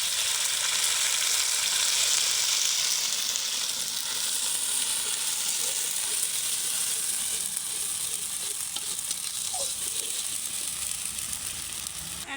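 Ground spice paste sizzling and frying in mustard oil in a wok after onions, a steady loud broadband hiss with faint stirring, continuous and close with no talk.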